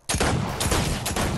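Gunfire rings out in a Wild West–themed video game, a sharp loud crack followed by further echoing shots in quick succession, close and punchy, with no talking.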